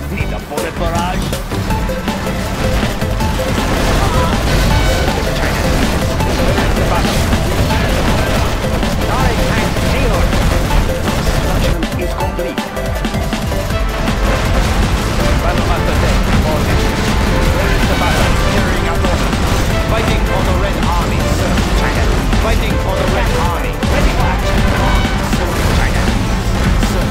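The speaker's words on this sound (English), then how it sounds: "need a bullet barrage" Dense, continuous battle noise from Command and Conquer Generals Zero Hour on a China mission: rapid gunfire and crashing explosions, with in-game voice lines speaking over the steady barrage.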